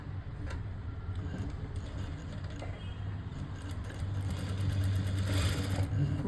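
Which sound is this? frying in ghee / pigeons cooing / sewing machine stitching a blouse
sewing machine stitching a blouse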